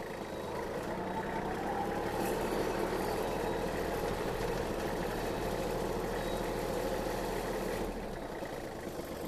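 A twenty-year-old Iseki Sial Hunter 2 Japanese mini tractor with its engine running, a loud, steady low chugging idle held close for several seconds before it eases slightly near the end.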